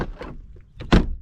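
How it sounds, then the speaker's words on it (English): Door of a 2002 VW Passat wagon opening, a soft latch click followed by a solid thunk near the end, close and brief. "Opening up this door,"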